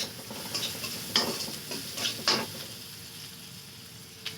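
Onions and green chillies fry in a pan after fish, with a low sizzle and several sharp spatula scrapes and clinks clustered early, then a quieter simmer and one final tap.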